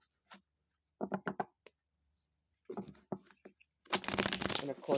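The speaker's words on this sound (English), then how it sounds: "I am going to shuffle, and then I'm going to cut these Chakra Wisdom Oracle cards in front of you" A deck of Chakra Wisdom Oracle cards is shuffled close by, giving quiet bursts of riffling and flicking in several short runs with gaps between them, ending in a longer, busier flurry.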